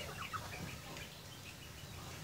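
Birds chirp and call in short, faint bursts during a fight between a chicken and a bird, set against a steady low background rumble.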